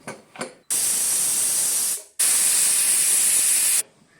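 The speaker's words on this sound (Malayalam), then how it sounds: "അപ്പോൾ ഇതാ ഒരു വിസിൽ വന്നിട്ടുണ്ട്" A pressure cooker whistle blows off steam in two long, loud, hissing bursts separated by a brief pause, close and forceful, after a couple of short puffs at the start.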